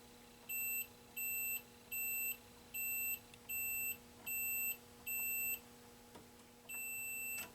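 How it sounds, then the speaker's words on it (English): A steady series of high electronic beeps from a 1978 Atari Super Breakout arcade circuit board under repair, about eight short even tones in a regular rhythm, followed by one longer beep, clear with no talking. "we should get a beep on all of them."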